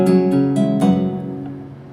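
A synthesized guitar-like instrument from the game Unrailed plays four quick plucked notes, each ringing briefly and then fading together into a soft decaying tail, with no voices present.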